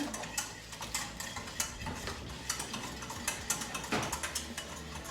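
Gelatin being stirred into jello for a lemon meringue tart, heard as steady, rhythmic scraping and clinking of a utensil against a pot or bowl, close and moderately quiet.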